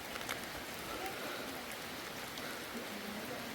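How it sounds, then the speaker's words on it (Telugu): Rain falling steadily around a grass-thatched village hut in a mountain settlement, a continuous soft hiss of drops with faint patters, constant and moderately quiet throughout. "చూసారా, వర్షం వస్తుంది ఒక పక్క నుంచి."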